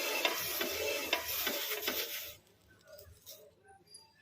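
Chopped onion spread on a hot dosa pan sizzles loudly and hisses for about two seconds, then drops to a faint crackle with a few light clinks.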